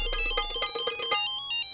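A phone ringtone plays a bright, repeating electronic melody in pulsed notes during an office meeting, loud and close, then cuts off partway through and leaves only faint tonal traces.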